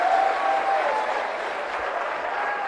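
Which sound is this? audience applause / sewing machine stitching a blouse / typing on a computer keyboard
audience applause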